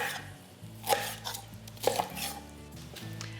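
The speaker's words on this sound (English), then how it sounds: "I just chop the peel off the citrus." Knife chopping the peel off citrus on a board, a few sharp knocks about a second apart over faint low background hum, close and moderately quiet.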